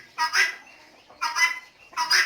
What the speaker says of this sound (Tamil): இது பெண் கிண்ணி கோழியோட சத்தம்